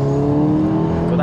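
A tuned 520 bhp widebody Cupra estate's engine drones steadily and loudly up close, with a turbo spooling up as a constant whine layered over the rumble.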